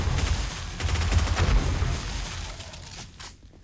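Sustained close automatic gunfire in 7 Days to Die with the Darkness Falls mod, loud rapid shots with heavy low thumps that taper off toward the end.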